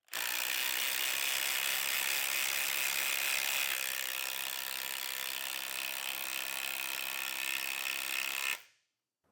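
Bosch and Hercules compact impact drivers running side by side, a loud, steady mechanical whir with a ratcheting buzz that holds for about eight seconds and then cuts off abruptly.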